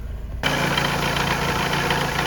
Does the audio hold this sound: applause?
no